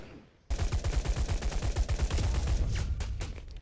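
Rapid bursts of automatic gunfire from the free-to-play shooter Battlebit Remastered start abruptly after a brief quiet moment, then rattle on in fast repeated shots before trailing off into scattered echoing cracks.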